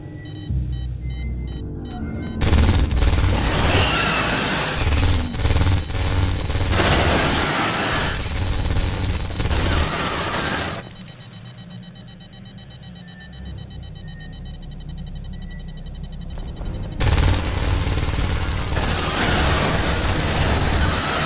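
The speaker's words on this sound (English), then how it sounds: "Did somebody order a pair of plasma cannons?" Twin plasma cannons firing in the sci-fi game Aliens: Dark Descent, loud dense rapid bursts with alarm-like tones over heavy rumble, pausing midway with a quieter hum before the barrage resumes.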